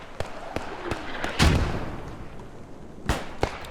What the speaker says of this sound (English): Looks like the mortars are a bit off, hitting on troops.